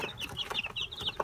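Young chicks peep in a poultry yard, quick high-pitched chirps repeating closely over a faint background of fowl clucking.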